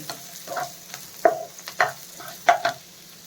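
Onion and garlic fry in a pan, with a soft continuous sizzle broken by a series of sharp scraping stirs from a spoon, close and without talk.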